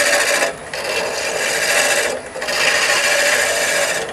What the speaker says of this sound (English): I make another turn on the tailstock and go back to turning again